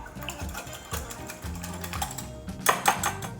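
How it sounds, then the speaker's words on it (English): Two eggs are beaten in a measuring cup with quick, rhythmic tapping and clicking of a utensil against the cup, close and fairly faint, with a brief sharper clatter near the end. "And we're just gonna beat them up."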